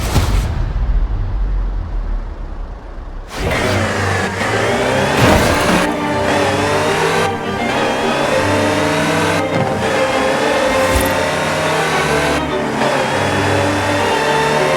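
Land Rover Type 3 engine in Forza Horizon 4 revving loudly and steadily, with a few surges and gear shifts as it accelerates, close and continuous with no voices.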